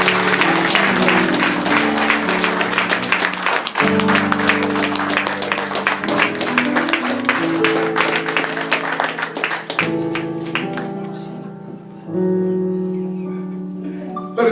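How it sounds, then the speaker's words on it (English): Church congregation clapping in praise, a dense sustained burst of applause, with sustained musical tones underneath that carry on as the clapping thins toward the end. "Give the Lord a hand clap of praise."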